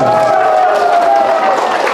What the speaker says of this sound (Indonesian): Jadi tepuk tangan dulu untuk Aitinyo